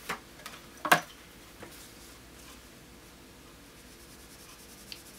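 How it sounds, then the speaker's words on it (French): Colored pencils tap and scratch briefly on a small notebook, a few faint close ticks and strokes with a sharper one near the start, followed by quiet. "Je vais les essayer sur le petit notebook"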